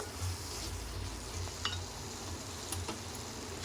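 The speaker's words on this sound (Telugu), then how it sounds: "ఒకసారి మొత్తం కలిపేసుకొని స్టవ్ ఆఫ్ చేసేద్దామండి" A spoon stirs bitter gourd and tomato curry in a pan, with a steady low sizzle and a few light scraping clicks close by; no one speaks.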